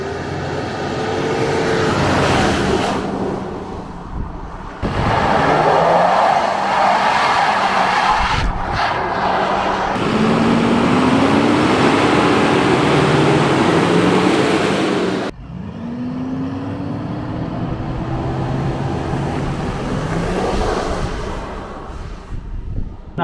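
A 2024 GMC Sierra HD Denali with the Duramax diesel launches hard from 2200 RPM and accelerates, its loud engine roar rising in pitch through several gear changes with brief breaks between shifts.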